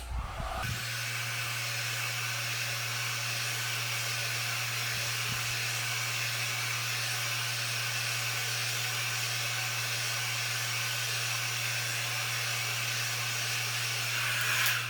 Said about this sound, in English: I'm going to put a little bit of heat to this Emblem and see if I can heat up that 3M double-sided tape